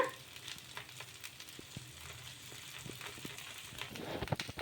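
Rava dosa frying on a pan with oil drizzled on top: a faint, steady sizzle and crackle with small pops throughout, no voices.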